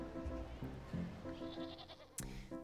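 A black sheep bleats repeatedly in the fantasy crafting game Wytchwood, several wavering nasal calls in quick succession over a quiet game background, fairly faint overall.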